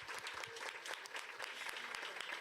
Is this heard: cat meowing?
no